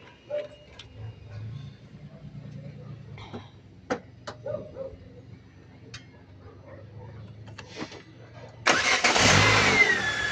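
A Peugeot 206 CC engine cranks and catches near the end, roaring loudly after several seconds of faint ticks, clicks and background murmur.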